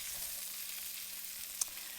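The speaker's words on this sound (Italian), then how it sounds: "una volta che lo sfrigolia diventa molto intenso e che abbiamo insaporito tutto quanto" Spices sizzle steadily in hot oil in a pan for red lentil dhal, a constant close hiss with a single brief pop near the end and no voices.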